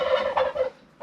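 A turkey gobbles in a coop, a short close rattling call in quick bursts, alone with no talk.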